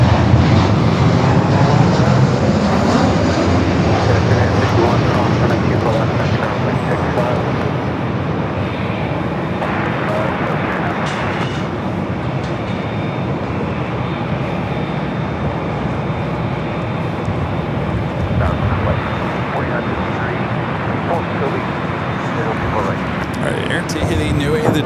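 Boeing Dreamliner jet at LAX airport, a steady, broad engine roar from a fair distance that holds for the whole stretch, with airport radio chatter and talk faintly over it.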